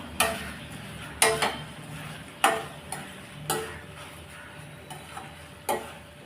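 A spoon scrapes and stirs through a thick masala mixture for pasta in a pan, in irregular strokes several times, fairly close, with a faint sizzle underneath and no talking.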